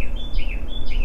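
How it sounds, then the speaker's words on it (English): A bird sings outdoors, two short clear whistled phrases repeated over a steady background hum, brief and fairly prominent. "Oh, there's a bird singing in the background."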